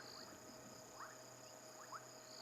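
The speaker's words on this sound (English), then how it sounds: "but I can hear dwarf puddle frogs" Dwarf puddle frogs calling at dusk after rain, heard as faint, brief chirping calls at about one-second intervals over a constant drone of insects.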